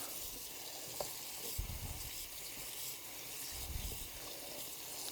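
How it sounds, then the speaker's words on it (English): Steady running tap water splashes and hisses over cooked white corn being rinsed with cold water in a sink, a continuous close wash with a few louder stirring bursts and no talk. "Give it a good rinse. It's still going to be really hot to touch it, so you got to rinse it to cool it off."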